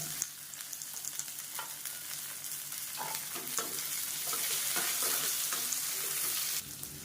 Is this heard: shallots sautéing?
yes